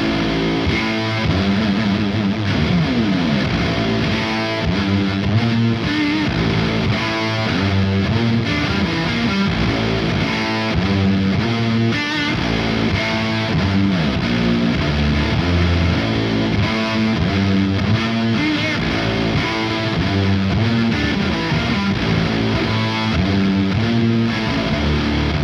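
A baritone guitar plays through Marshall JVM and Peavey 5150 high-gain amps with reverb and delay, giving a thick, heavily distorted riff that rings on continuously at full volume for the whole stretch with no talking.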